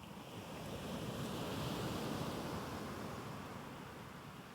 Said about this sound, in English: the sound of the ocean begins bleeding into my ears